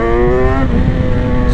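Engine of a 2018 BMW S1000XR motorcycle running loud and close, with a steady harmonic drone that loosens into a rougher, broader roar partway through.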